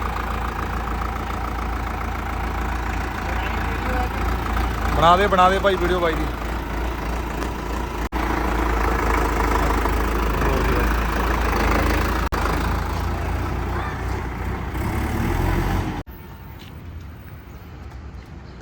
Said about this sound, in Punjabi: ਆਵਾਜ਼ ਸੁਣੋ ਟਰੈਕਟਰ ਦੀ ਬਹੁਤ ਨਰਾਲੀ ਜੀ ਆਵਾਜ਼ ਆ